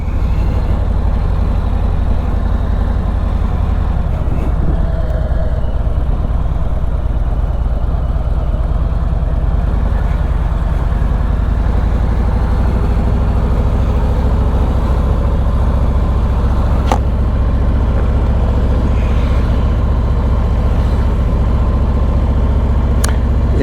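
A 2021 Harley-Davidson Road Glide Limited with its 114 engine idles steadily, a low continuous rumble that stays loud and even throughout, with no talking.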